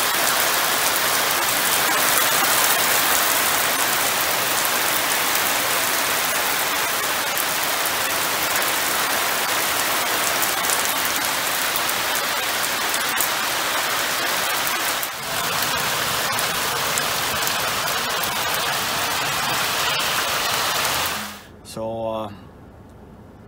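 Steady rain pours down loudly and evenly on the surroundings of a yard being mowed with a Gravely mower, a dense continuous hiss that fills the scene before cutting out abruptly near the end.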